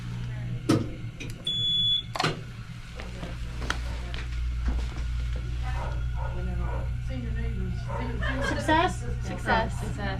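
An X-ray machine gives electronic exposure beeps over a steady low hum, with people talking intermittently throughout.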